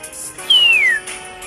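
A single clear whistle from a person glides smoothly downward for about half a second, fairly close and loud against faint background hum.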